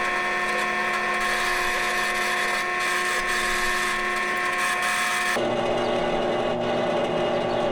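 A hand drill whirs with a steady high-pitched tone, then shifts to a rougher, lower grinding as it cuts into a Matchbox Jeep Gladiator toy car.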